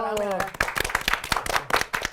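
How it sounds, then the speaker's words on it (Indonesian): Audience applause at a cinema lounge event for a film screening, sharp close claps with a thinner crowd behind them, beginning just as a host stops talking and running for about two seconds. "Boleh tepuk tangan dulu dong."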